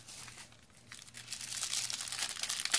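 Close crinkling and rustling of plastic wrapping is pulled off during a Magic: The Gathering Magic Origins unboxing, soft at first and then growing louder and busier toward the end.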